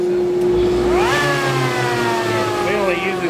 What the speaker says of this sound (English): we better turn on the bit and make sure we got it turned right